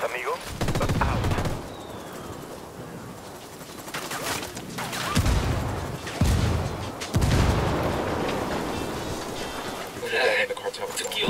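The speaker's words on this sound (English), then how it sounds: "Call the rebels for some indirect fire." Indirect artillery fire called in from rebel allies in a video game: booming blasts and bursts of gunfire land in clusters across the stretch, with rumbling impacts and crackling debris, loud and fairly close, and voices talking between the volleys.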